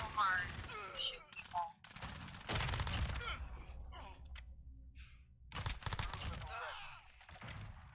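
Sentry gun firing in a video game, heard as bursts of rapid gunfire that repeat through the moment, with a player's voice and sighing mixed in between the volleys.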